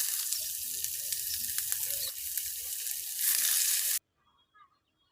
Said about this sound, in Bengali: আর এরপরে আমি দিয়ে দিব রিং করে কেটে নেওয়া পেঁয়াজ।